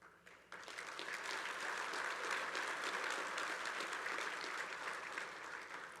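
A large audience at a union keynote applauds in a sustained burst of clapping. It swells quickly after a quiet opening and holds steady, dense and fairly distant, with no speech over it.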